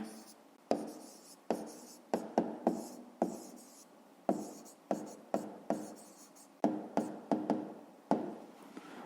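A pen writes an answer on paper in a series of sharp taps and short scratchy strokes, evenly spaced across the stretch, close and fairly quiet.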